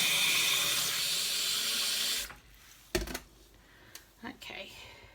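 Tap water pours steadily into a sprouting jar for about two seconds, loud and hissing, then cuts off, leaving a few clinks and handling sounds.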